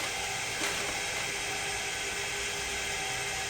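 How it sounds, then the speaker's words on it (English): An opal grinding machine runs steadily as stones are rubbed back on it, a continuous whirring, gritty mechanical hum close by with a brief scrape near the start and no talking. "So now we'll just turn this on and just rub a couple of pieces back"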